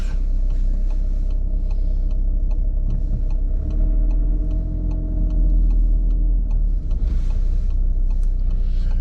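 A BMW X4 on a town street gives a steady, loud engine and road rumble that stays close throughout, with a faint regular ticking running over it and no talk.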